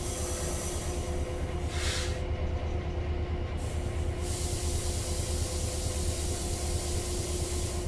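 A locomotive in Train Sim World 5 runs with a steady low rumble and a constant hum, joined by a brief bright hiss of air near the start.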